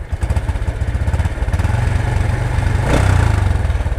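Honda Supra X 125 motorcycle with an aftermarket Federal exhaust, idling close up with a loud, rapid chugging putter that revs briefly and rises in pitch before settling back, with no talking.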